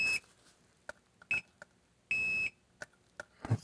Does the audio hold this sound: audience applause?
no